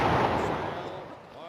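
Port-side ship's cannons boom in the naval video game New Horizons, a heavy broadband blast decaying over about a second and a half, loud and close with a rumbling tail.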